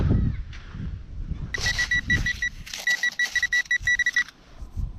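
A metal detector gives a series of high electronic beeps over a can pull-tab, steady at first and then pulsing in quick repeated bursts, over faint rustling outdoors.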